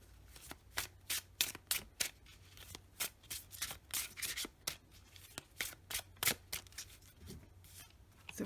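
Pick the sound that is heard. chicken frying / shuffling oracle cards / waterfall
shuffling oracle cards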